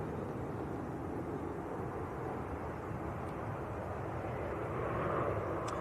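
A Ryanair airliner on short final approach at Manchester Airport gives a faint, steady, distant engine rumble that rises slightly toward the end, with no talking.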